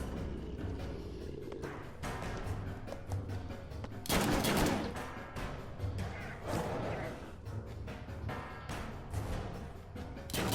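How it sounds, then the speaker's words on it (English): Gunfire in the Fallout Shelter video game, a series of muffled shots and thuds with one louder burst, mixed over continuous game sounds at moderate volume. "I can't control when they shoot them"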